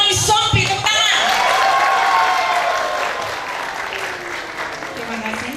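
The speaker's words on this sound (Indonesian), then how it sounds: "Kakak Irjen Roni Sompi, tepuk tangan." Audience applause at a large school reunion of SMP Negeri 29 Manado, a sustained crowd clapping that swells and then gradually tapers, with voices and some background sound mixed in.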